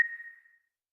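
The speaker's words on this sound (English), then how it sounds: "that is a alarm." A single electronic alarm beep sounds once, a steady mid-pitched tone that fades out within about half a second, faint and alone with no voices.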